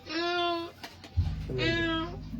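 Two drawn-out meows, close and clear, separated by a short pause, with a low rumbling hum beneath the second one.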